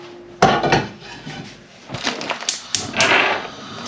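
A metal frying pan set down on a kitchen stove with a clatter, followed by more knocks and clanks of cookware being handled, close and fairly loud, while preparing bacon for an egg and bacon pie.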